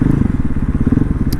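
A motorcycle engine, either a KTM 500 or a Honda XR650L, thumps loudly and close in a rapid, pulsing single-cylinder rhythm throughout, with a brief brighter rattle near the end.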